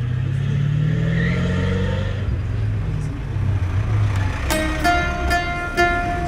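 An old Lada taxi drives along, its engine a steady mid-pitched drone with road rumble, ending in a few sharp clanking knocks.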